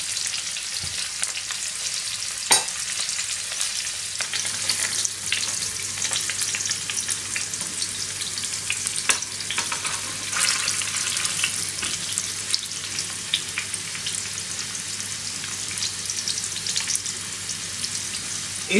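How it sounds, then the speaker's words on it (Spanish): Fondant potatoes fry in a pan with plenty of butter while being basted, giving a steady, dense sizzle throughout with occasional spoon clinks and stirring, and no talking. "Pongamos un poco más de mantequilla, porque como he dicho, esto necesita mucha mantequilla, pues se tiene que regar con mantequilla."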